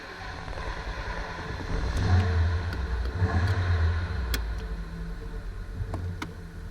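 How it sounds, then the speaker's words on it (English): Steady engine drone from inside a 1983 VW Quantum GL5 Wagon, a low hum that swells slightly around mid-clip, with faint ticking clicks over it and no talking. "we're gonna go for a drive in the Quantum"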